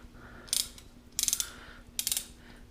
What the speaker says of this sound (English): Clicks seem pretty good.